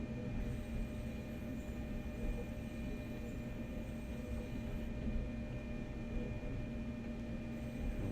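A steady low engine drone with a rumbling rail hum from a DB BR 185 locomotive in Train Sim World, running continuously, fairly quiet and even throughout, with no talking.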